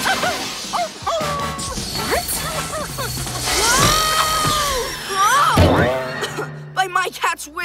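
A cartoon dog from PJ Masks barks and yips in sharp, high bursts, mixed with loud crashes, whooshes and animated character voices throughout.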